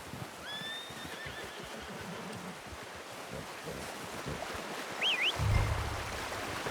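A horse in Red Dead Redemption 2 whinnies with a rising, wavering call, followed moments later by a second shorter neigh over steady ambient background noise and a low thump.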